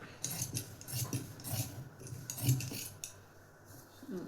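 Scissors snipping through blouse cloth in quick, light metallic cuts, close and fairly quiet, with a soft rustle of fabric and no talking.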